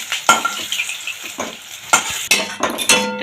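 A spoon scrapes and clinks in a frying pan as fried potato pieces are lifted out, with a soft background sizzle and several sharp utensil strokes close by.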